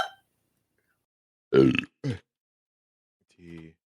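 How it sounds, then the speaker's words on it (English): A person burps twice in close succession, short and loud at close range, followed by a quieter low grunt-like vocal sound after a pause. "Sorry, I burped."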